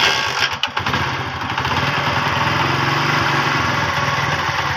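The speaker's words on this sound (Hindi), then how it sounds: "आप मोटरसाइकिल को थोड़ा स्टार्ट कर" A Honda CD 70 motorcycle engine sputters and catches after a few uneven bursts, then settles into a loud, steady idle close by.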